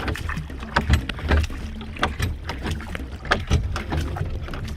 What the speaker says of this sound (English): Another boat ride across the river.